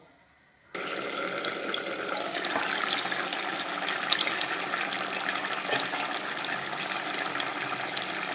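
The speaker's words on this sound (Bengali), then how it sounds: "এবার আমি বেশ কিছুটা জল দিয়ে দেব" Water poured into a cooking pot of curry with vegetables, a steady continuous gush and splash starting abruptly after a brief quiet moment and running evenly to the end, close and fairly loud.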